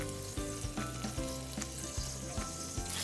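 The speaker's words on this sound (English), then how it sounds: "since we're gonna do crispy skin salmon, I want the skin to get really crispy and kind of cook the salmon from the heat from that" Salmon fillet frying skin-side down in a hot pan for crispy skin, a close steady sizzle with soft pops and small bursts of crackle, no voices.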